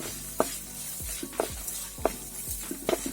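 Onion frying in a pan while it is stirred, a steady sizzle with four clear scraping stirs of a spoon at roughly regular intervals, close and alone with no talking.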